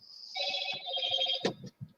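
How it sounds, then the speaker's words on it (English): A phone chimes a notification, a short bright ringing tone pulsing for about a second, fairly close, followed by a few soft knocks and handling noises. "sounds like notification just went out"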